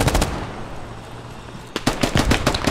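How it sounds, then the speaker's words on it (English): Friendly SAW machine gun fire in the video game Squad, a quick burst of rapid shots up close, then a lull of distant rumble, then another rattling string of automatic gunfire. "That's friendly saw fire."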